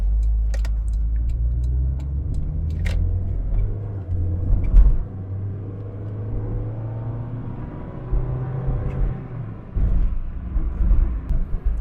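A 1989 Honda Accord Aerodeck's petrol engine hums as a steady low rumble from inside the moving car, with faint clicks and road noise over about twelve seconds and no talking.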